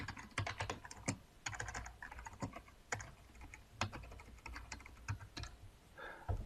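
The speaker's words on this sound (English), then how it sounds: "I'm going to type in sudo ifconfig and then the IP address." Rapid, uneven keystrokes on a computer keyboard as a sudo ifconfig command is typed on Linux, close and clear, with short bursts and brief pauses and no talking.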